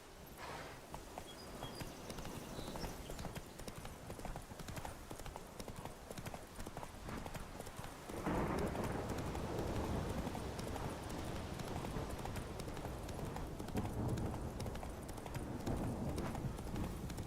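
Roach, a horse in The Witcher 3, moves at a steady clip-clop of hooves that picks up into a louder, denser galloping rhythm halfway through, with game ambience underneath.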